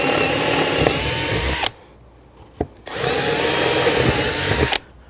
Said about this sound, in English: I'm gonna go ahead and drill those holes down through the old holes